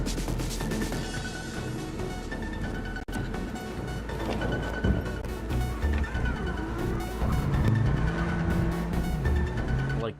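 Car driving in Cyberpunk 2077, a steady engine drone running throughout, layered under dense game music and effects with a brief dropout near three seconds.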